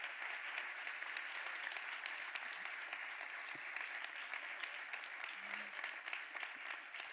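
An audience at an ocean innovation event applauds the organizers in a continuous, even wash of clapping, fairly faint and distant, with no voices over it.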